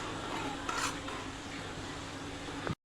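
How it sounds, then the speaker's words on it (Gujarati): Millet flour roasting in ghee in a pan for a traditional millet porridge, with a steady close scraping and stirring sound and a soft sizzle running throughout, no talking. "તો આપણે આવી રીતના છે ને ઘીમાં લોટને શેકવાનો છે થોડીક વાર."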